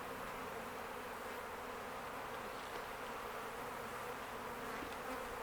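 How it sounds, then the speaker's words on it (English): Honey bees swarm around an open beehive during an apiary inspection, a continuous dense buzzing drone close by and steady throughout, with no voices. "you can see how many bees are with me and around me right now"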